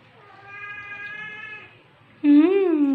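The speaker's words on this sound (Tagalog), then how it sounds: "Yung ating pusa, galit na." A house cat gives two meows: a faint, drawn-out plaintive one, then a much louder, close, angry wavering yowl.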